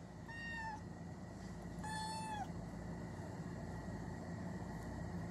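A kitten gives two short, high meows about a second apart over a constant low rumbling background hum, with no talking.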